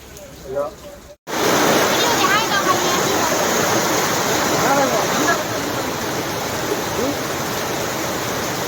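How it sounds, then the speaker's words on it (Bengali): After a short spoken moment, a dense, loud hiss of heavy rain outside in Port Blair takes over and pours on steadily, easing slightly in level toward the end. "বাইরে বিশাল বৃষ্টি হচ্ছে, পুরো ভিজে ভিজেই গেছি"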